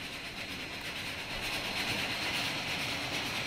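A long train rolls steadily through the rail simulation game Transport Fever 2, a continuous broadband rumble with faint clickety-clack, even and sustained with no talk.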